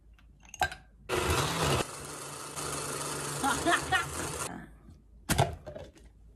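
A blender whirs for several seconds, churning apple, steamed carrot, coconut water, milk and ice into a drink, a loud steady motor drone framed by brief clatters before and after, with voices nearby.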